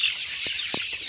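Farm chickens give a couple of short, soft clucks against a steady hiss of background noise, fairly near, with no talking.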